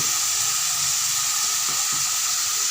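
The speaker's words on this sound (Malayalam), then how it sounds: "രണ്ട് തക്കാളി മൂന്ന് പച്ചമുളക് അരിഞ്ഞ് വഴറ്റാൻ വെച്ചിരിക്കുന്നത്" Chopped tomatoes and green chillies sauté in a hot pan with a loud, steady, close hiss that holds evenly from start to end, with no talking.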